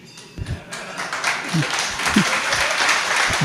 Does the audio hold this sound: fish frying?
no